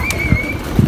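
A pigeon kept for Indian pigeon flying gives a faint, brief call or wing flutter amid the open-air bustle of a rooftop loft, with low thumps and a thin steady whistle over it.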